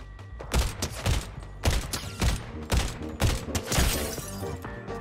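A tactical DMR in the battle-royale game Fortnite fires in loud, sharp single shots at a steady semi-automatic pace, roughly eight cracks in a row, each with a short echoing tail.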